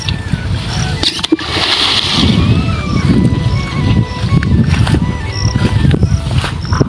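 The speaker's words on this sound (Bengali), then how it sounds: "তো এখানে এরা সাইফন করছে, পাইপটা এখন জলে ফেলছে।" A siphon pipe thrown into fish farm water, with continuous splashing and sloshing close by, irregular bursts of water movement and faint voices in the background.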